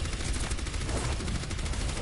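Orisa's gun firing in the Overwatch video game, a dense continuous stream of rapid shots at a steady moderate level with no pauses.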